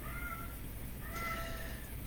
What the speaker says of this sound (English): Can you hear my cat yowling for whatever reason?